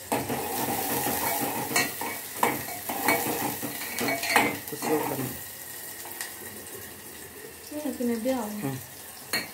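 Chopped onion hitting hot oil in a pan and being stirred, bursts of sizzling alongside clattering utensil strokes and a few tapping knocks, with a voice speaking briefly near the end.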